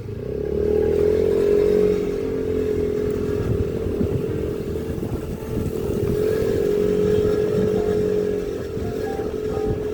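A motorcycle ridden over snow, its engine droning steadily and close, with the pitch rising and falling slightly as it labours along, no voices over it.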